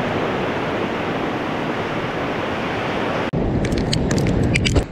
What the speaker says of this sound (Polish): fale się rozbijają o brzeg